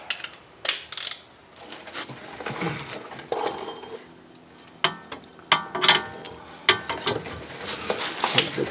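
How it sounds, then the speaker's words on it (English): A ratcheting torque wrench tightens bolts on the rear wheel bearing of a 2017 Honda Accord, giving close, repeated clicking pulls in short bursts with brief pauses, and several sharp clicks toward the end. "I'm gonna come in here and just torque them now."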